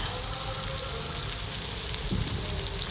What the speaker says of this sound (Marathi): कढईमध्ये टाकले त्याचा कांदा आणि मिरच्या यांचे मिश्रण झाल्यानंतर चांगला कलर येईपर्यंत आपल्याला ते तेलामध्ये तळून घेतो